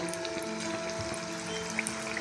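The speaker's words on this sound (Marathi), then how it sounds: "आता वड्या तळून घेते।" Alu vadi, steamed and sliced taro-leaf rolls, frying in hot oil with a steady, continuous crackling sizzle throughout, moderately close and unbroken by any voices.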